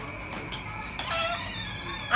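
A cat meows a few times in a home, the short cries fairly close and clear over a low background hum.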